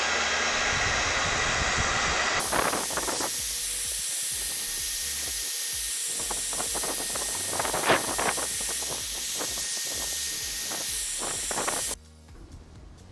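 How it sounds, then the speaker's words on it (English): A handheld hairdryer blows steady broadband hiss close by, warming the adhesive behind a Tesla front badge, with small handling knocks scattered through before it cuts off near the end. "I'm using a hairdryer here."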